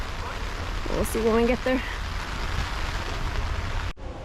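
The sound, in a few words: rain falling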